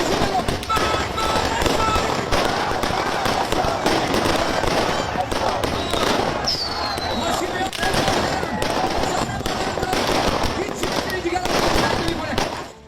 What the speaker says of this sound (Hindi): आतिशबाजी हो रही थी ईरान में।